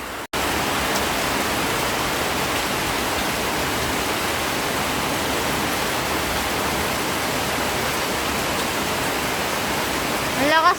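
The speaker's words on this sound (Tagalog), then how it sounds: "Ayan ang ulan" Heavy rain pours down in a dense, steady roar, loud and unbroken throughout, with a brief dip near the start.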